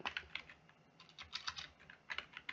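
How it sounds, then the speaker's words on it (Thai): Rapid typing on a computer keyboard, uneven bursts of close, crisp key clicks with short pauses between, no voices. "แล้วเราก็พิมพ์ไป"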